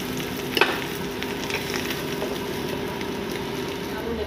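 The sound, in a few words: potatoes deep frying in a kadai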